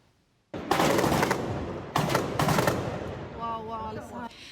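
Bursts of rapid gunfire crackle loudly in two volleys as security forces fire from a balcony into a hotel in Mogadishu, Somalia, followed by a shorter stretch of quieter noise with a tonal sound on top.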